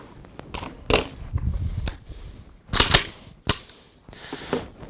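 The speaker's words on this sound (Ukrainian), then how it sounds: "Від'єднали магазин." Metallic clicks and clacks as the magazine is detached from an AK-74M assault rifle during field stripping, a few sharp close knocks and snaps spread unevenly, with no talking.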